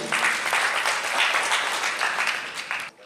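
Lively applause from a book-discussion audience welcoming Kang Ari, many hands clapping steadily for about three seconds before cutting off at the end.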